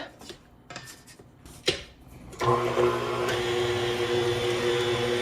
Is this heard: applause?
no